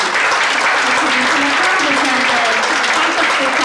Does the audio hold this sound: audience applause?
yes